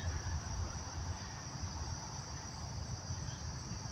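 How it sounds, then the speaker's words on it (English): Insects, probably cicadas or grasshoppers, chirr in a steady high continuous drone outdoors near a house, faint and unbroken, with a low rumble of background noise beneath. "probably cicadas or some sort of grasshopper or something"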